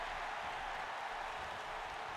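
Steady roar of a wrestling crowd cheering wildly for Kanye West, a continuous, even wash of distant crowd noise with no distinct voices standing out.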